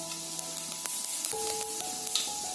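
Fennel seeds sizzle in hot coconut oil while crab gravy is cooked, a steady broadband crackle and hiss with small pops, close and moderately loud, with no voices.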